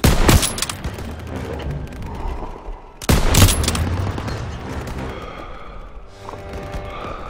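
Heavy gunfire in a Call of Duty WWII street battle, two sharp loud volleys a few seconds apart followed by dense rattling fire and distant battle noise fading behind.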